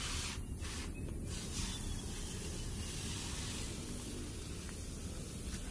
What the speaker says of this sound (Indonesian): kita semprot semua